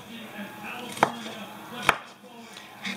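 A knife coarsely chops salad ingredients on a board, giving two sharp, distinct cuts about a second apart and a softer third at the end, with quiet room noise between.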